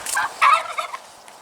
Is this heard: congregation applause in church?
no